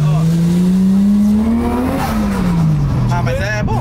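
A Nissan Skyline R34 accelerates up close. Its engine note climbs steadily, peaks, then drops through a gear change before revving again, with tyre and road noise underneath and people talking over it.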